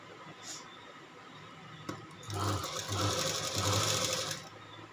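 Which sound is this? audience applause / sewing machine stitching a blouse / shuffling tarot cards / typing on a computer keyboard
sewing machine stitching a blouse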